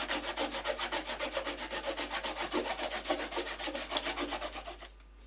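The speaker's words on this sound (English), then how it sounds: "Remove the masking fluid by rubbing with your fingers." Fingers rub dried masking fluid off watercolour paper in fast, rhythmic back-and-forth strokes, a close, dry scratching that runs steadily for about five seconds, then stops.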